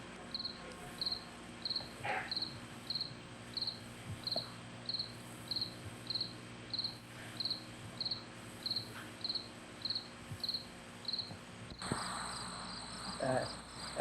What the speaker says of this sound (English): And I think you'll hear the cricket in the background.